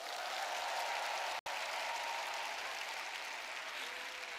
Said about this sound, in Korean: 여러분 박수 좀 보내주세요.